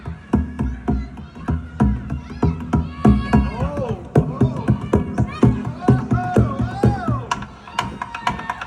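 A festival crowd at a Samhain celebration cheers and whoops in lively bursts, with rhythmic clapping or stamping and music underneath, several voices shouting over the din.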